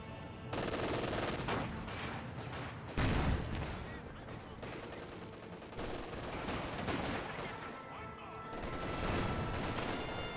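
Obersoldaten squads trade rapid rifle and machine-gun fire in a Company of Heroes 2 street battle, with dense overlapping bursts, a heavy blast near the three-second mark and continuous battle din throughout.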